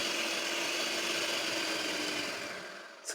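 Sugar, eggs and oil being whisked together for a passion fruit cake batter, a steady faint rapid rubbing and swishing in the bowl that fades near the end, with no talking.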